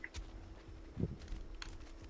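Sparse, quiet keystrokes on a mechanical computer keyboard, with a few separate clicks spread unevenly over a couple of seconds against a low background hum.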